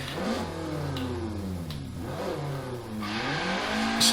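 A Ford Escort RS1600 C-class rally car in Forza Horizon 3 revs hard and continuously, its engine note climbing and falling through repeated sweeps, loud and close with no talking.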